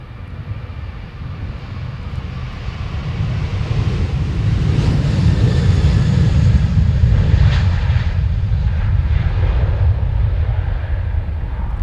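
An Emirates airliner on flight EK148 at Amsterdam Schiphol roars steadily, swelling to a broad, loud engine rumble in the middle and easing off slightly toward the end, with wind buffeting the microphone.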